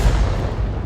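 A single heavy, booming report from a tank's automatic cannon in World of Tanks, loud and close, with a rumbling low tail that fades over a fraction of a second.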